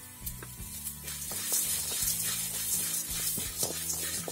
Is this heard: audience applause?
no